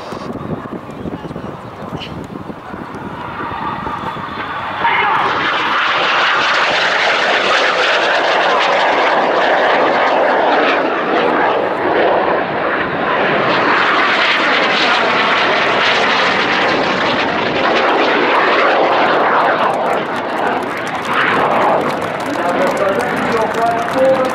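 Red Arrows jet aircraft in a flying display formation at an air show, a loud roar swelling and sweeping overhead for most of the stretch, with a commentator talking over it.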